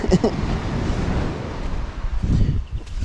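Wind gusting across the rocky shore of a remote tropical island, a broad rushing roar buffeting the microphone with surges near the start and again toward the end.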